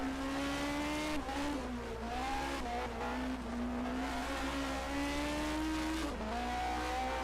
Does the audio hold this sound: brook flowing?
no